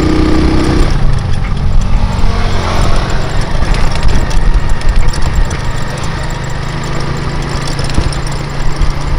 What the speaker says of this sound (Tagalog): Itong motor ni Marabas, itong motor okay pa to, okay nam